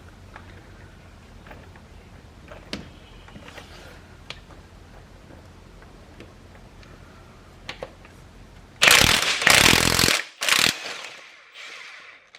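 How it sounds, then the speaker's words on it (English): A 1/2 inch impact wrench works on the 19 mm crank pulley bolt of a second-generation Equinox V6 still in the car. After a quiet stretch with a few faint clicks, several loud, close rattling bursts hammer out in quick succession. "I'm going to use a 1/2 inch impact to try to remove that bolt."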